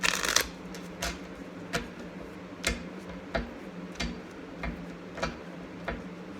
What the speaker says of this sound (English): let me just reshuffle and see what comes up